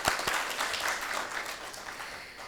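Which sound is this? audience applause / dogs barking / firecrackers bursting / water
audience applause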